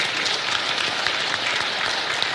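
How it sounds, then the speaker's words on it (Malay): Steady applause from a forum audience at an Islamic affairs event, dense continuous clapping at moderate distance with no voices over it. "Kita berikan tepukan gemuruh kepada semua."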